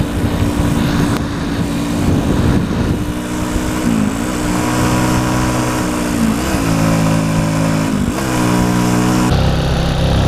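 Motorcycle engine droning steadily while riding along a road between Maros and Bone, with the pitch rising and falling as it takes curves; loud and close, no talking.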